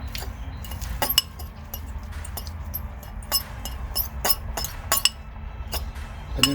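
Shredded lettuce tossed with a small splash of vinaigrette in a bowl, with light repeated clinks of a utensil against the dish over a low steady background hum.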